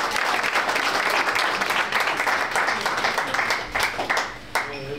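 Sustained applause from the audience at a sports awards gala, dense steady clapping that fills the hall and thins briefly near the end, with faint voices underneath.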